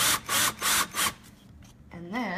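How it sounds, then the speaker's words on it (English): A handheld power drill bores into a wooden Halloween cloche base in four short, loud whirring bursts close by, then stops, followed by a quieter wavering tone. "So now you want to use your drill, and then we're just going to drill."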